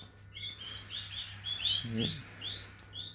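Canary chicks beg with rapid, high chirping cheeps while the male canary feeds them, a steady run of close, fairly soft tweets with a brief low rustle midway.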